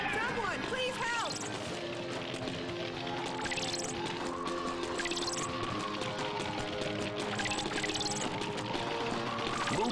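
Water cannon spraying in the Rescue Heroes video game, a steady rushing gush of water running throughout, mixed with game music and repeated swooping effects.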